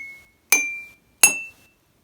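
A glass holding water is struck twice, and each strike gives a bright, clear ring that fades over about half a second. The two hits are evenly spaced, close and alone.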